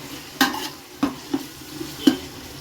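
Coriander and mint sauté in a pan for chicken biryani, with a soft sizzle under four distinct spoon-against-pan knocks spaced irregularly, close and fairly loud.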